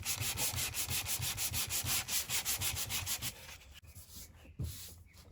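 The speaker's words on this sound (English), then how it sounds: "So you have to sand it so you maintain that." Sandpaper scrubs paint on the front end of a 1985 C4 Corvette in steady, rhythmic back-and-forth strokes, loud and close, then slows into a few lighter, scattered rubs near the end.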